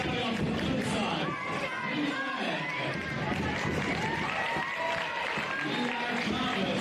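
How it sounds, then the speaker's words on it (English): Sustained audience applause and crowd noise at a junior sports event, dense and continuous throughout, with an announcer's voice speaking over it. "And keep the applause going."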